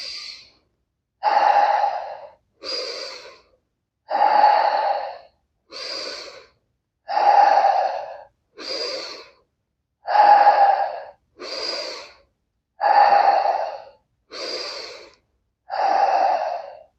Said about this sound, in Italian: respiriamo con la pancia sempre